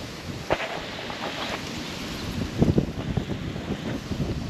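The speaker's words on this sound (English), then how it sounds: "That wind's wanting to blow and tip the net upside down." Wind blows at a creek, a steady low rumble of microphone buffeting with a few stronger gusts, no voices.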